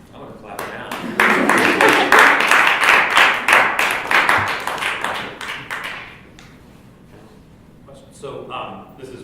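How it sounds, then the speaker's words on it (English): Several people clap together from about one to six seconds, loud and close with a steady patter, then it fades out and a quieter voice follows. "I'm going to clap now."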